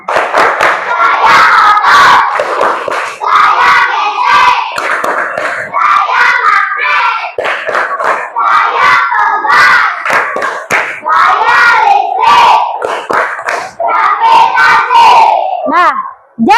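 Primary schoolchildren in a classroom chant together in rhythm while clapping their hands, a loud, close group clapping chant about kinds of forces with steady repeated claps under the unison voices.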